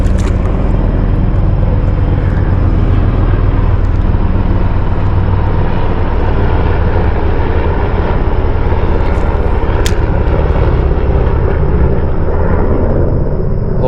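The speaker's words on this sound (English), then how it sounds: "Here comes the helicopter." Helicopter passing overhead above a lake while fishing, a loud, continuous rotor and engine roar that stays steady and close for the whole stretch, with no talk over it.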